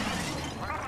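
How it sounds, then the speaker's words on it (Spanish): A bathtub shatters in Luigi's Mansion 3, a loud, dense crash of breaking debris lasting under a second, with a busy game soundscape and no clear talk. "¡Rompió la bañera!"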